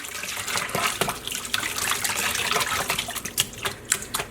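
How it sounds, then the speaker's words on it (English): Hand-dyed yarn is rinsed under a running tap, a steady splashing water flow with irregular clicks and drips as the wet yarn is handled, close and fairly quiet. "let's just do one more big rinse"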